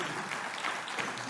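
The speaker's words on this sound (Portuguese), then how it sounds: "palmas para Isaltino Moraes" Brief, fairly quiet applause from a seated audience at a Portuguese housing panel, a soft wash of clapping greeting Isaltino Moraes.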